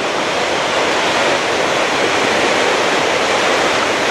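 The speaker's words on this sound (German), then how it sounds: "ab jetzt kommt dieser Sprühnebel, diese Gischt von dem Wasserfall deutlich von vorne" Spray and mist from Espelandsfossen waterfall in Norway make a loud, steady, broadband rushing roar, close and continuous with no pauses.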